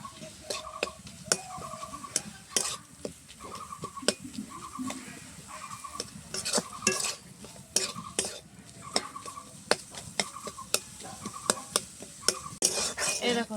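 Spoon scraping and stirring spiced prawn chop filling in a pan, repeated clinking strokes in a steady rhythm over a soft sizzle, close and fairly loud with no talking.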